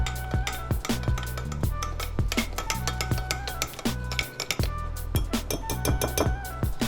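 Almond butter fat bomb ingredients are stirred in a bowl, with a steady run of close clinks and scrapes as the utensil knocks against the sides.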